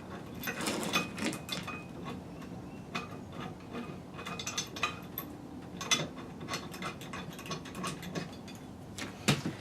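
A hand ratchet tightens the two caliper bracket bolts on a Mopar C-body Imperial pin caliper brake setup, giving close, steady bursts of rapid pawl clicking with short pauses between strokes.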